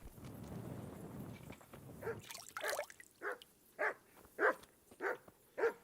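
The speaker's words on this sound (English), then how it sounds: "I see, they got the dog." A dog in Kingdom Come: Deliverance barks about six times in a steady rhythm, each bark loud and distinct over quiet ambience, after a stretch of rushing background noise.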